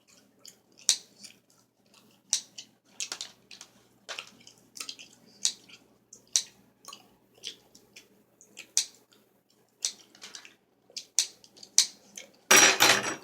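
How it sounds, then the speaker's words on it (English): Scissors snip through bread to cut it into cubes for bread pudding, close up and crisp: a long series of short, soft crunching cuts at irregular intervals, ending in a louder rustling burst. "you just cut it into cubes"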